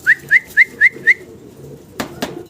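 A male Pakistani choco racer pigeon calls in five short, evenly spaced whistling notes, close and clear, followed by two sharp knocks over a low background hum.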